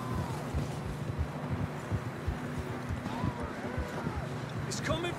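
Horse hooves clip-clop at a rapid gallop in Red Dead Redemption 2, a rhythmic pounding of several horses moving together, close and fairly loud, mixed with wind and ambient game sounds.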